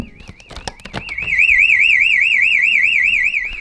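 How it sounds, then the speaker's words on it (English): A home security alarm siren is tested: after a few soft clicks and beeps, a loud, piercing warbling siren starts and rises and falls steadily at close range. "Now I'm gonna do a quick test of the siren just to make sure it's working."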